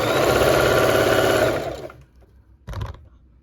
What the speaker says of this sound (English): And then I'm just going to sew.